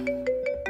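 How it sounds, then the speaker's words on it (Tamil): A phone rings with an incoming call in a Tamil TV drama scene, a steady electronic tone pulsing in rapid regular beeps, clear and close. "மது ஃபோன் பண்றாங்க"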